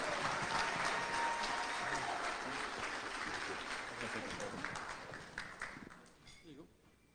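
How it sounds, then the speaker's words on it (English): Broad applause from an audience at a State of the City event honoring a commissioner, loud at first and then gradually thinning out, with a few scattered claps and a voice near the end. "How about a big round of applause for Commissioner Pete Morales?"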